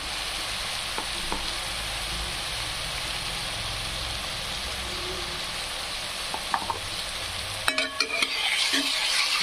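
Chilies and turmeric fry in hot oil with a dense, continuous sizzle and occasional soft stirring knocks. Near the end, clattering utensil sounds and a louder burst of frying come in.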